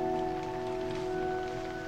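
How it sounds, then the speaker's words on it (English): Steady rain falls in a scene from the film Misery, a soft continuous hiss of drops with sustained musical tones running beneath it throughout. "The rain."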